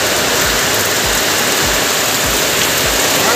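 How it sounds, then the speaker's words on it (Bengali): Heavy rain pours down steadily and loudly, a dense, unbroken hiss with a few low thumps underneath. "পুরো বৃষ্টি পড়ছে"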